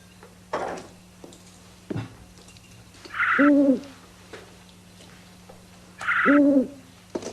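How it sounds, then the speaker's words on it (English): An owl outside a house at night hoots twice, two short, low, wavering calls a few seconds apart, fairly close and clear over quiet indoor room tone with a few soft knocks. "It's not pigeons. It's an owl."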